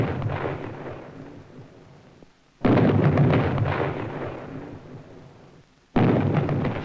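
Bombs, rockets and shells pound Fort McHenry in an old 16mm film soundtrack, heavy booming blasts that hit hard and decay into rumble, repeating every few seconds, with no talking.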